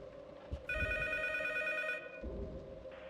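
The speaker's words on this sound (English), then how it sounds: "And then the phone rings." A telephone rings in the horror game P.T. with a bright, rapidly trilling electronic bell that lasts over a second. It plays over a low eerie drone, with faint thuds before and after.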